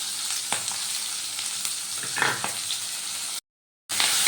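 Capsicum and tomatoes fry with ginger paste in a pan, a dense, continuous hissing sizzle with a few soft stirring scrapes, close and loud, cut by a brief moment of silence near the end.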